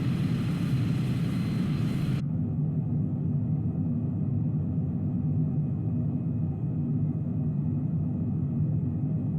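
An RQ-4 Global Hawk drone's engine drones steadily in Microsoft Flight Simulator. A loud, constant low rumble carries through the whole stretch, with a bright hiss cutting off abruptly after about two seconds.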